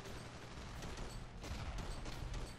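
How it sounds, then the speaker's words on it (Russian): Chaotic World War II battle in the game Ravenfield: continuous crackling gunfire and rumbling explosions blend into a dense, loud barrage without pause, with no talking over it. "Ой, тут взрывы."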